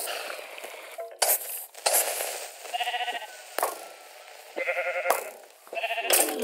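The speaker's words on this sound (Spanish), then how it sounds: "Le he dado a la oveja, ya me estoy motivando." A sheep in a survival video game being struck, sharp hit sounds followed by several trembling bleats, repeated in bursts over a few seconds.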